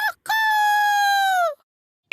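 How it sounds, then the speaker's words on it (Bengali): A cartoon rooster crows once in a long, bright, sustained call after a short opening note, loud and close, with no talk over it. "এই নতুন মোরগটা আবার কি,"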